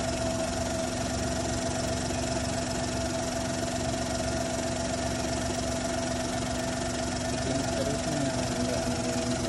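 A Suzuki 800 car's fuel-injected engine, driven about 100,000 km, idles steadily with a low, even hum and faint mechanical ticking, constant throughout with no other sounds.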